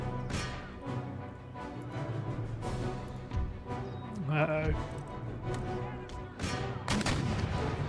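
Cannon artillery fire in an Empire Total War battle, booming in repeated heavy blasts amid scattered crackling gunshots and battlefield clatter; volleys come at irregular intervals, loud and close, with no talking.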